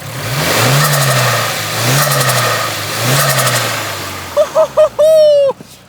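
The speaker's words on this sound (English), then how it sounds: "Wow, I missed hearing turbo noises" A turbocharged Nissan 240SX engine revs up and eases off in several waves, then short whooshing bursts and a rising turbo whistle and flutter follow.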